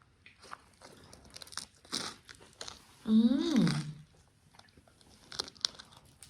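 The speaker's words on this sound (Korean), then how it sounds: "같은 소스에 파프리카 살라미도 한번 얹어 먹어보겠습니다" Paprika salami with onion and sauce is bitten and chewed up close, giving a few soft crunches and one louder, crisp bite burst, with quiet voiced sounds in between.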